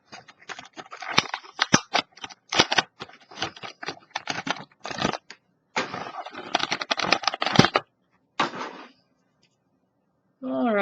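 Tape peeled and torn off the packaging of a Kidrobot South Park figure: dense crackling, ripping bursts with brief pauses for about nine seconds, loud and close, then a voice starts at the very end.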